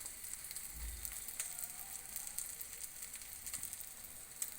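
An egg omelette fries in a little oil in a pan over medium heat, a faint, steady high hiss with scattered light pops and crackles and a brief low thump early on.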